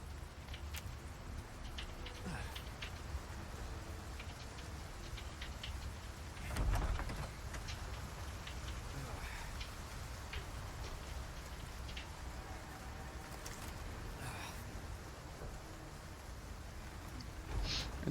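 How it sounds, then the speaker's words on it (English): Rain weather effect in a video game, a steady dense patter of falling rain lasting throughout at moderate level, with a brief louder gust partway through and no talking. "It's kind of nice that it's raining right now, so it shows the different weather effects."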